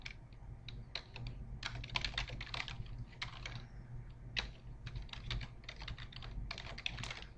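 Rapid keyboard typing in bursts of clicks, with short pauses between runs, close up over a low steady hum.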